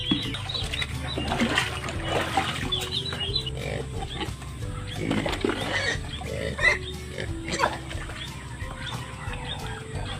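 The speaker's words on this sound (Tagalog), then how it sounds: "ito na yung mga native natin, mga half native na baboy dito" Native and half-native pigs grunt and squeal on a farm, their irregular snorts and calls overlapping near and far, with birds, a faint trickle of water and occasional distant voices in the background.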